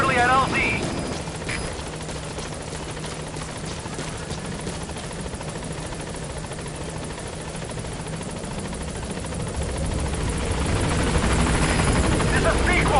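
Pequod transport helicopter in Metal Gear Solid V arriving at a landing zone, its rotor roar loud and steady throughout and swelling nearer toward the end, with radio-style voices talking over it.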